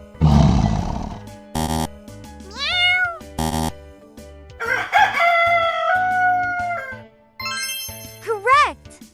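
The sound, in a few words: rooster crowing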